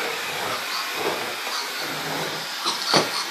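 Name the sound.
vacuum cleaner vacuuming a lawnmower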